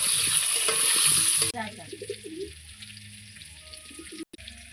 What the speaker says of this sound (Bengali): কাঁকড়াগুলোকে ভেজে নেব। হলুদ দিয়ে ভালো করে ভেজে নেব আর আলুটা ভেজে নেব।